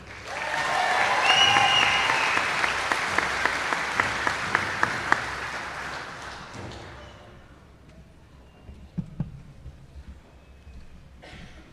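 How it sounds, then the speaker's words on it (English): An audience at the Winnebago Public School class of 2022 graduation gives the scholarship winners a full round of applause that swells quickly and then fades away. A few loud nearby claps stand out before scattered thuds and quiet room noise take over. "Can we have one more round of applause for our scholarship winners?"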